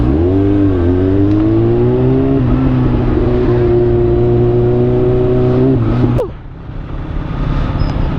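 Loud road traffic in close, with a nearby engine holding steady revs in a rising and levelling drone before cutting off, then a softer general traffic hum.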